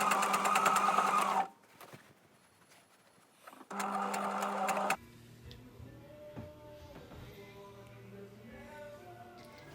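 Sewing machine stitching close to the fabric edge in two loud bursts of fast needle whirring separated by a quiet pause, followed by faint background sounds and shuffling.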